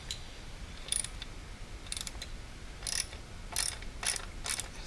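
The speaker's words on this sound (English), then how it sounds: "Switch over to a small ratchet." A small ratchet tightens coil pack bolts on an Aston Martin DB9 engine, short bursts of quick clicking repeated several times over a soft background hiss, close and fairly quiet.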